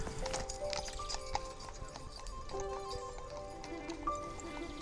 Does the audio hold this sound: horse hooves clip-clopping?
yes